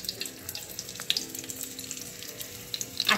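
Eggplant pieces fry in oil in a pan for a Khandeshi vangyachi bhaji, giving a steady, moderate sizzle with scattered crackles and small pops throughout, and no talking.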